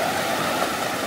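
River water rushes in a steady, loud roar, a continuous churning wash with no pauses and no voices.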